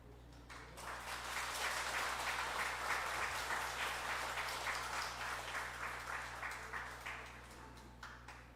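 A church congregation at a Sunday morning service claps to encourage a young man leaving for the army, a steady, moderately distant round of applause over a constant low electrical hum, tapering off at the close.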